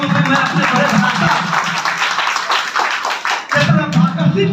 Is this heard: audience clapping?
yes